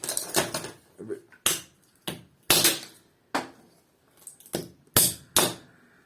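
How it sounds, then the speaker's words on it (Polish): A hammer pounds a Black & Decker electric saw apart for copper recovery, its plastic and steel housing taking about eight sharp, loud, close blows at an irregular pace with short pauses between. "Chyba najlepiej młotem potraktować, nie?"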